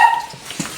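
A dog gives a short, sharp yip or bark up close, brief and fairly loud, amid a brief burst of other noise.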